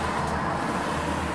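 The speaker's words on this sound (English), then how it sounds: "apologies about the road noise" Steady roar of passing road traffic heard from beside a new Audi A S-Line 150, a continuous broad rumble with no breaks, fairly loud and close.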